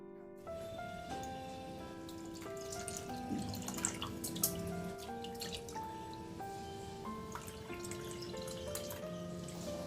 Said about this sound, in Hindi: इस पानी को भी इसमें डाल देंगे।